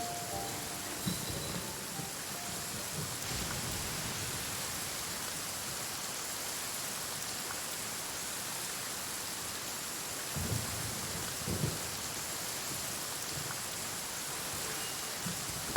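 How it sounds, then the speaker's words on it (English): Steady rain in the video game Genshin Impact hisses evenly and fairly quietly throughout, a broad wash of downpour with a few faint louder patches and no voices. "Let us find shelter from the rain."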